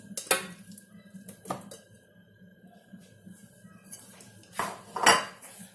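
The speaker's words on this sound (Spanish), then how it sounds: "vamos a incorporar la pechuga de pollo ya cortada en trozos" Pieces of chopped chicken breast go into the bowl of a Mambo food processor, giving a few sharp clinks and knocks against the bowl and utensil, quiet and close, with silent gaps between.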